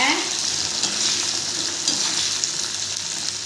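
Cumin, green chilies and curry leaves frying in a tempering for millet pongal, a steady close sizzle with light stirring throughout and no talk.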